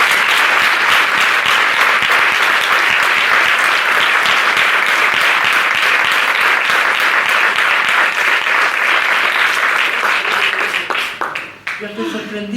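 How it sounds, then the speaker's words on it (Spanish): Sustained audience applause at a 2005 conversation event, loud and dense clapping that runs steadily for most of its length before tapering off near the end. "Merece un aplauso."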